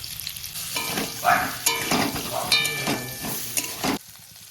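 Potatoes fry in white oil with salt and turmeric, a close, lively sizzle with bursts of spatula stirring and scraping, ending abruptly after about four seconds.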